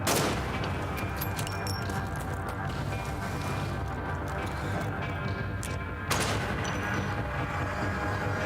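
Sustained crackle of gunfire and booms from a horror video game, a dense continuous barrage with a brief dip near the end before it resumes loudly.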